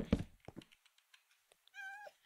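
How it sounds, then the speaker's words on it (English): A cat in Minecraft lets out a single short meow near the end, after a few soft clicks and thumps, fairly quiet and close. "Oh, we got a kitty."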